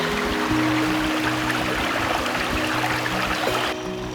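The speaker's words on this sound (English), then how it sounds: "Various small streams flow off the hills surrounding Ring Brook, creating even more small waterfalls." Small streams running off wooded hills around Ring Brook into little waterfalls, a steady broadband rush and splash of water, close and continuous throughout.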